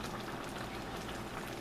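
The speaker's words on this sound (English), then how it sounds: "see how the bubbling's gotten" Creamed corn bubbling steadily as it cooks down and thickens in a pot, a dense continuous simmering hiss with soft popping bursts, close and moderately loud, with no talking.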